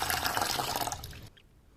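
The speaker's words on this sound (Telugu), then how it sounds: "అలాగే వేరొక గిన్నెలోకి ఒక 2 గ్లాసుల వాటర్ తీసుకోవాలి" Roughly two glasses of water pour into a cooking bowl in a short splashing rush that stops abruptly, followed by a moment of near silence.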